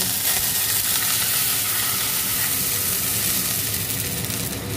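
Chopped garlic frying in hot oil while making chicken thukpa noodle soup, giving a steady, close, loud sizzle with crackling hiss that holds evenly throughout, with no talking.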